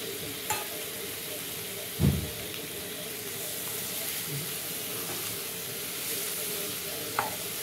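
Chopped tomatoes go into a frying Bengali prawn curry and get stirred, giving a steady sizzle with a few sharp clanks of a spoon against the pan, and no voices.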